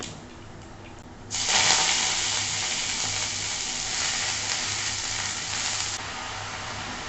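Spinach stir-fry (upperi) cooks in a pan. A quieter hiss swells abruptly into a loud, steady sizzle that holds for several seconds, then eases slightly, with no talking.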